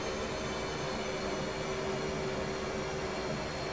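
An F/A-18C Hornet jet engine roars in the DCS World flight simulator, a steady, even rumbling whine that holds at a constant level with no break.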